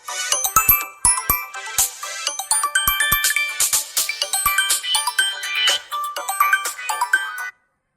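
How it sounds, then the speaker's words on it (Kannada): A phone rings with a busy, bright electronic ringtone melody, loud and continuous with rapid tinkling notes, then cutting off abruptly near the end; no one speaks over it. "ಯಾವುದೋ ಫೋನ್ ಗೊತ್ತಾಯ್ತು ನೋಡು, ರಿಸೀವ್ ಮಾಡು."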